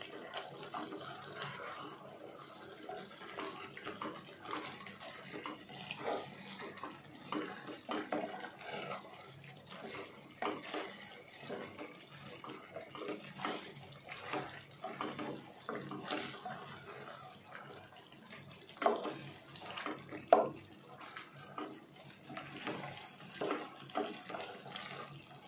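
Water is poured into a chicken kadai curry cooking in a pan, making a faint, continuous splashing trickle that runs steadily for the whole stretch with small uneven bursts.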